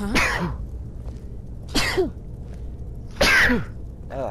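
Three short explosive sneezes spaced about a second and a half apart, loud and close, from a character in Skyrim Special Edition, with a brief murmured voice between them.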